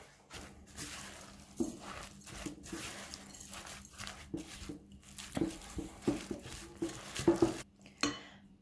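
A spatula scrapes and knocks against a bowl while cookie dough ingredients are mixed at home, irregular soft scrapes and clinks with a few sharper taps toward the end.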